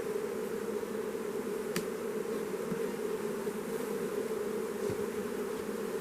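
A steady, close droning buzz of many honey bees at an open hive continues without pause, even and moderately loud throughout.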